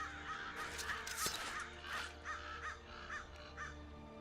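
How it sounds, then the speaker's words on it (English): Crows caw repeatedly in the blocky survival world of the Minecraft RLCraft mod, a run of harsh calls at moderate distance over a low steady background hum, with no talk. "Those birds are making a lot of noise."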